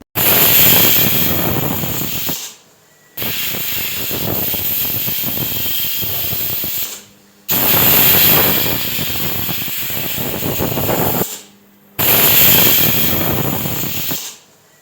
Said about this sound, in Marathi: हे पहा कुकरच्या चार शिट्ट्या झाल्या आहेत आणि पूर्णपणे वाफसुद्धा गेली